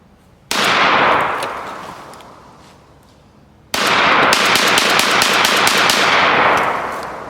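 A Mossberg 940 JM Pro semi-automatic shotgun fires outdoors at a range: one loud blast with a long decaying echo, then a rapid string of about eight shots run together, close and booming.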